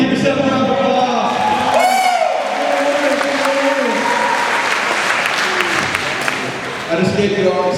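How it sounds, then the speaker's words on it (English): Audience applause with scattered cheers and whoops fills the room right after a song, steady and loud, with music tones and a voice rising over the crowd early on. "Give yourself a round of applause."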